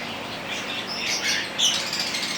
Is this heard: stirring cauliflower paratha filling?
no